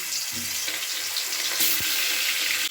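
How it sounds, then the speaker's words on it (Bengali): Katla fish pieces fry in hot oil in a wok, making a loud, continuous close hiss and sizzle with faint spatters and a brief clink, and no talking. "এবার কড়াইতে তো তেলটা গরমই আছে এবার আমি যেটা করব মাছটাকে ভালো করে ভেজে নিচ্ছি"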